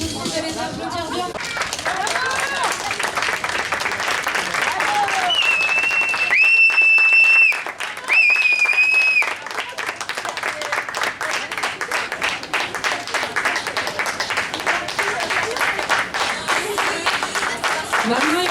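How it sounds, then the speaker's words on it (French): At the end of a fashion show the audience claps and cheers loudly and steadily, with music and a short sung melody over the crowd partway through before the clapping carries on alone. "Terminé, vous allez applaudir bien"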